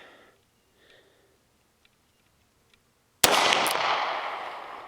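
A single sharp, loud handgun shot from a Taurus Ultra-Lite titanium pistol at a steel plate range, fired after near silence with faint breaths, its blast ringing and decaying for over a second.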